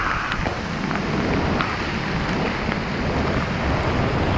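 Heavy rain falls on a dense forest path climbing toward a cave at AshokJhar in Jajpur, Odisha, a constant near hiss with gusty wind buffeting the microphone.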